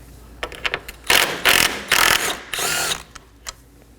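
A power tool spins out a 10mm bolt from the hood latch on a 2015-2023 Nissan Maxima, several short whirring bursts and ratcheting pulses close by, with pauses between them.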